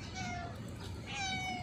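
A homeless cat meows loudly for food, giving two drawn-out, plaintive cries close by against a faint background hum.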